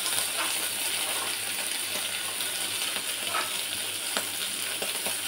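Prawns frying in a home kitchen, a steady dense sizzle running the whole time with occasional light clinks and scrapes of stirring, close and fairly loud, no voices.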